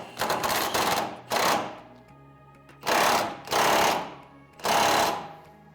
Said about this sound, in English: we will go ahead and use our power tools and get that tightened up